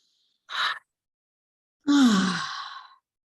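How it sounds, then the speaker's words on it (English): A person breathes in deeply, a short soft inhale followed after a pause by a long, loud, sighing exhale with some voiced tone, close and alone. "First, take a deep breath."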